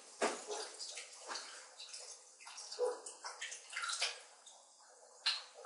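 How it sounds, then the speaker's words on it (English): Original cola is poured from a can into a pan with butter, making close splashing and gurgling bursts of liquid that come in uneven spurts and trickles, with no talking. "And then I'll add my can of Vive original cola drink."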